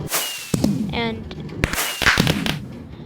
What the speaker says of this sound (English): it'll trigger fireworks